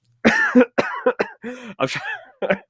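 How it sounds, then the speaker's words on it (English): A rapid series of harsh, voiced coughs comes in short bursts, close to the microphone, with brief pauses between them. "Apologies, I've been holding that cough in for such a long time."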